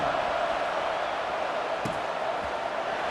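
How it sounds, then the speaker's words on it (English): Steady roar of a stadium crowd in College Football 26, a dense wash of cheering holding at a constant level for the whole stretch, with a brief sharp thump near the middle and no one talking over it. "this crowd is feeling themselves after that last drive"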